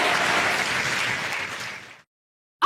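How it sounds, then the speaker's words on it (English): A crowd claps loudly and steadily for about two seconds at a mass prayer service, then the applause stops abruptly into silence before a brief burst of sound at the end. "Clap for Jesus."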